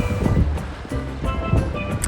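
Small sea waves washing onto a Sardinian beach, a steady close wash of surf with gentle surges and breezy wind noise, no voices.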